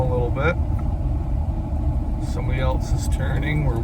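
A 1982 Ford F-150 4.9L with custom exhaust idles with a steady low engine rumble throughout, a throaty exhaust drone beneath brief higher-pitched tones and faint background sounds.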